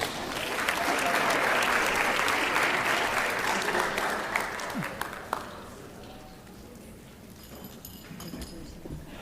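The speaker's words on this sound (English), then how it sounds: "Once again, a round of applause for all of our Seal of Civic Readiness and Biliteracy students." A school board meeting audience applauds, loud sustained clapping for about five seconds that tapers off into scattered claps and a quieter room.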